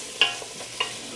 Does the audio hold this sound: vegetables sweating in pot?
yes